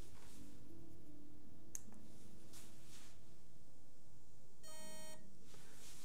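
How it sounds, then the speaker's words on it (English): A PDMovie Live Air 4 lidar focus button press gives a short electronic beep, clear and close, over a steady background hum with a few faint clicks. "Press the button once. You're going to hear it beep."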